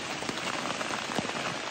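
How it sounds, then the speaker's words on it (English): Morning rain at a campground, a dense steady patter of drops striking nearby surfaces, with a few louder close hits, continuous and without talk. "6:30 in the morning, and we got rain."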